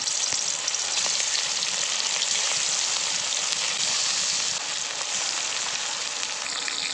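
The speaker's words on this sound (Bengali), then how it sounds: "তেল গরম হয়ে গেছে, এবার মাছগুলো ভেজে নেব" Pieces of rui fish fry in hot mustard oil in a kadai, a steady, close, crackling sizzle that holds for several seconds without talk.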